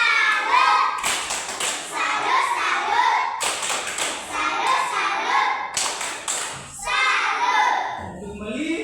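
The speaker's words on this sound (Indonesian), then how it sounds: "Tepuk tangan untuk kalian punya teman dulu." Children in a primary-school classroom clap hands together in quick rhythmic bursts, loud and close, with short pauses between rounds and a bit of chatter and shuffling under it.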